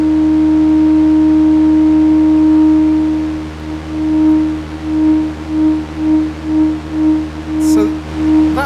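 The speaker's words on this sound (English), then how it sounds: "Actually, maybe a triangle would make more sense. Yeah, especially on the super slow." A Eurorack oscillator produces a pure, steady tone that holds for about three seconds, then pulses on and off in a slow regular rhythm, loud and alone with a faint click near the end.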